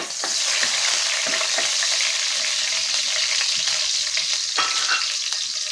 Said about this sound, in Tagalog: Ngayon po ay magkikisa tayo ng bawang